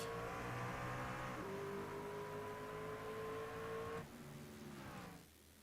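Race trucks in an AARL Truck Series event at Kansas Speedway roar off the green flag start, engines droning steadily with rising pitch, then fading as the pack pulls away.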